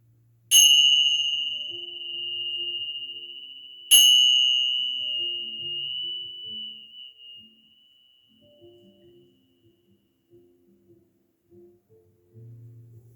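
During a chair yoga meditation, a bell is struck twice a few seconds apart, each strike a bright clear tone that rings on and slowly fades to silence, with soft faint sounds afterward.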